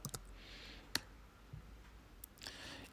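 A computer mouse gives several sharp, faint clicks spaced irregularly apart against quiet room noise, with a soft rustle or two between them.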